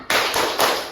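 A class of seventh-grade students does the rhythmic 'tepuk semangat' clap in a classroom lesson, three sharp loud bursts of many hands clapping in quick succession.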